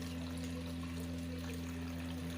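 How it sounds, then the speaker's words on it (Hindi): Whey water trickles and pours through a clove-scented cloth strainer held over a bowl, separating milk curds for rasgulla, a faint steady flow under a constant low hum with no talking. "ये इस तरह करके छान लेंगे।"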